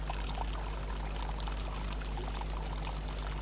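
Water pours steadily from an Inca stone fountain at Machu Picchu, a constant close splashing rush with no breaks and no voices.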